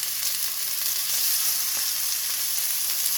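Ostrich steaks frying in olive oil in an extremely hot pan, giving a steady, close, loud sizzle that holds without a break and has no talking over it.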